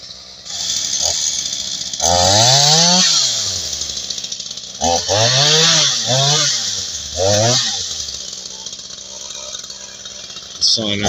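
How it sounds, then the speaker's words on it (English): A chainsaw revs up and down through several bursts cutting fallen trees, loud and close, engine pitch rising and falling between idle stretches. "Sawing out the road."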